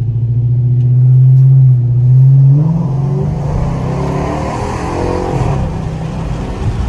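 A 2009 Chrysler 300C 5.7 Hemi V8 with a Flowmaster Super 10 exhaust rumbles deeply and loudly, swelling in two strong revs before dropping to a throaty idle, very close and powerful.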